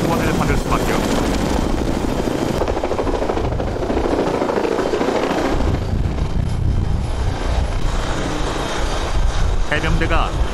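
Marine Corps amphibious assault helicopters fly close overhead with loud, continuous rotor thumping and engine roar, while a narrator speaks over the noise.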